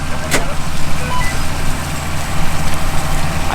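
A truck engine roars loudly in mud as the throttle ramps up, a dense continuous rumble with a brief sharp click near the start.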